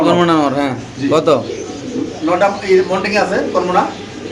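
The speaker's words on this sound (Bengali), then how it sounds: "এখানে আছে একটা হলুদ এলো ফ্যান্টেল কবুতর" A yellow fantail pigeon coos close by in a pigeon seller's setting, its soft throaty calls mixed in with someone talking.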